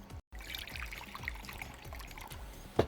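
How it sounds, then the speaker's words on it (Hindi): Water is poured into a bowl for fried chicken batter, a soft, quiet trickle that runs steadily, with a brief gap near the start and a small splash at the end. "इस बोल में हम ऐड करेंगे पानी।"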